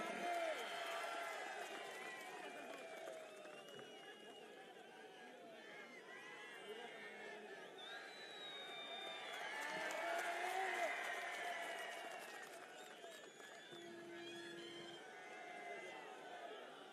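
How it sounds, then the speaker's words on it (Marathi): A crowd at a political rally clapping and cheering to welcome a candidate, a dense, distant-sounding roar of applause and chatter that swells midway, with voices carrying over it. "उमेदवार आले जरा टाळ्या वाजून त्याचं स्वागत करा"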